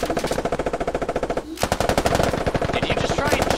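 Rapid automatic gunfire in a military video game, dense bursts of shots with a brief pause in the middle, loud and close throughout.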